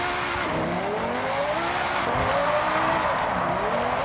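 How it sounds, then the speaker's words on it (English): Audi R8 GT RWD with its V10 engine in the Forza Horizon 6 racing game, a continuous loud high-revving drone with rising and falling pitch sweeps as it accelerates and shifts, with some tire noise. "That V10 sounds so good though."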